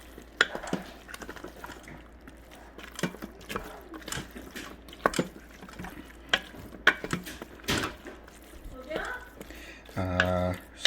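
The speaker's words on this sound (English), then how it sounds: "So just put the potatoes inside and mix them well" Potatoes stirred into Pakistani aloo keema in a pot, giving soft, irregular wet squishing and scraping strokes, with a louder sizzle-like burst near the end.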